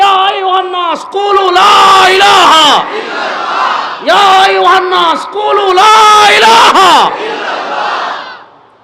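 A large crowd at a religious gathering roars a slogan back to a preacher in loud, repeated unison call-and-response waves, each swell lasting a couple of seconds.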